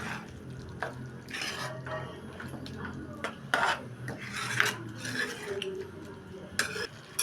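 Chicken for a spicy devil chicken dish being stirred and fried in a pan, with repeated scraping and clinking of a utensil against the metal over a low, steady background.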